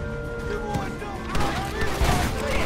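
Rapid gunfire in the Western video game Red Dead Redemption, a string of shots fired at a bandit near a mansion, with bursts over a busy game soundscape and some talk.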